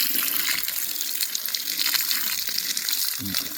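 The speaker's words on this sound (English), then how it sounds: "Then I try to water it" Water pours and splashes steadily onto the soil and leaves of a yellowing peppermint plant, a continuous hissing gush from close by.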